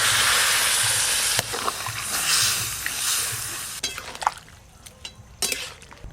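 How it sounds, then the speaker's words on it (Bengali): Water poured into a hot pan of cooking vegetables and spices for a Bengali fish kalia, a loud hiss and sizzle that settles into softer bubbling and occasional stirring clatter. "এবার জল দেব পরিমাণ মতো জল"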